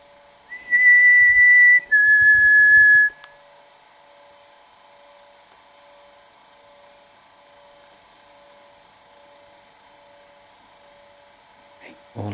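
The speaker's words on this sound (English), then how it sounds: "Can you copy my whistle?" Two short, clear whistled notes, the second slightly lower, sound loudly near the start, followed by a long quiet stretch with faint ambient hum.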